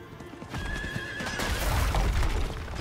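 A horse in Diablo 4 whinnies loudly while hooves clatter beneath it, a short, close burst with a steady rumble of movement.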